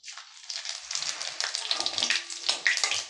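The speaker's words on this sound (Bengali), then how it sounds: "এবার আমি সেই তেলের মধ্যে দিয়ে দেব গোটা জিরে আর 2টো শুকনো লঙ্কা।" Whole cumin seeds and two dried red chillies hit hot oil, which has just fried cabbage dumplings, and set off a loud, steady, close crackling sizzle that swells and sputters without a break.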